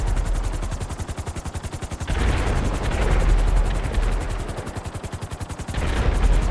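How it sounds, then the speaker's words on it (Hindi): Rapid, continuous bursts of Diwali firecrackers crackle loudly and densely in GTA 5, strings of sharp pops with brief lulls between heavier volleys. "चारों तरफ पटाखों की आवाजें"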